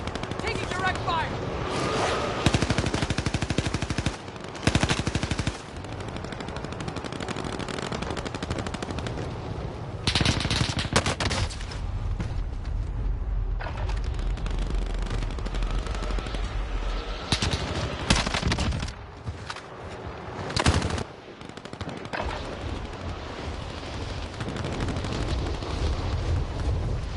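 Rapid machine-gun bursts and booming explosions in a video game come loud and dense, with brief lulls between heavy volleys, and voices speaking over the din at times.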